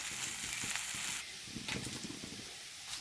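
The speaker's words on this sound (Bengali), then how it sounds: "এটা দেখো আমি ভালো করে ফ্রাই করে নিচ্ছি" Papaya pieces fry in a pan with a steady, close sizzle that hisses brightly, softening a bit partway through, with faint stirring scrapes underneath and no talking.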